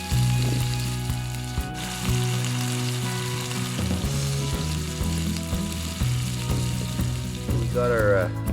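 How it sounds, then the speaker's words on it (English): Bear meat fries in a pan beside a lake, a steady crackling sizzle with occasional clinks and stirring noises, close and continuous. "It's frying up nice and golden brown"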